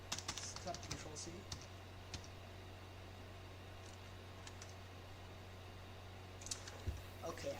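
Soft, scattered keyboard taps come in short bursts at the start and end, separated by a quiet stretch of steady low hum from nearby equipment.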